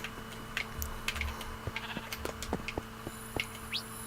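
Sheep in a Minecraft village bleat several times in short, repeated calls over a steady low in-game hum, moderately quiet and with no speech.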